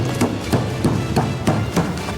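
A hammer strikes ice in repeated sharp knocks, about seven evenly spaced blows close by over a steady background rumble, with no voices.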